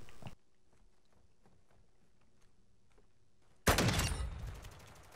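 A sniper rifle fires in a video game with one loud, sharp blast that trails off into a decaying echo, following a quiet stretch of faint ticks and clicks.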